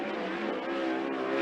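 A 410 sprint car runs a hot lap at Skagit Speedway, its engine a steady, loud, sustained drone with no change in pitch and no voices over it.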